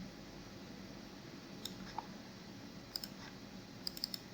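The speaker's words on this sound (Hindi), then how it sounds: "राइट क्लिक करता हूँ" A computer mouse clicking while someone edits a thumbnail, with a handful of small, sharp clicks scattered over a steady background hiss, some in quick pairs and triplets near the end.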